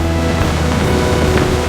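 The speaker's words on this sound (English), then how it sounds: "A turbulent water bath provides a deep, thorough cleaning." Water churns steadily in a turbulent wash bath for onions on a factory line, a dense, loud, even rush with machinery hum underneath and no voices.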